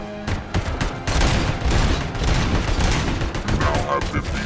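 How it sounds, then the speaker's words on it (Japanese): Continuous enemy gunfire in RoboCop: Rogue City, a dense unbroken barrage of overlapping shots and bursts that stays loud throughout, with faint voice-like sounds mixed in. "止めどなく撃ってる。"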